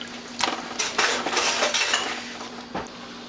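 A spoon stirs a pot of root vegetable stew with tomato and bouillon, making a quick run of close metallic clinks and scrapes against the pot with short pauses between them.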